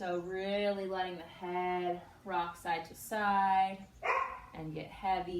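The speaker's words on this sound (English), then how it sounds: "Jet's trying to join us for yoga if you can hear him barking" Jet, a dog, barks repeatedly in short bursts throughout, loud and close, while a calm voice keeps talking in a home yoga session.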